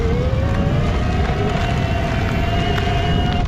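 DŌST DROP CVT electric bike motor under full throttle climbing a steep hill without pedaling, a steady rising whine over continuous road and wind rumble, close and loud throughout.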